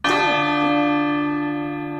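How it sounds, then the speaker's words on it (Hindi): A golden bell in an animated story is struck once and rings out loud and clear, then its bright metallic tone hangs on and fades slowly over a couple of seconds. "उन्हें एक सुनहरी घंटी मिली। जैसे ही टिम्मी ने उसे बजाया, टन टन टन"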